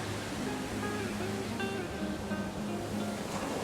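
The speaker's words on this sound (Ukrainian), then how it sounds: "Такий могутній, грандіозний, величний, геть не тихий, тихий океан." Pacific Ocean waves along the California coast, a continuous broad wash of surf at steady loudness with no voices.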